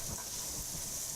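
Onions and garlic frying in a pan over medium heat, a soft steady sizzle and hiss lasting about a second, with faint stirring beneath it.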